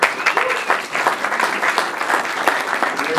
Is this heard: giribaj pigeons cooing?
no